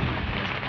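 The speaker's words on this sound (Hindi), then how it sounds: "और इतनी तेज़ तूफान आ रखा है ना भाई आपको सुनाई दे रहा होगा पीछे" Heavy rain and a thunderstorm pound steadily outside a tent on a first camping night in the early hours, a dense, loud, unbroken roar with no voices.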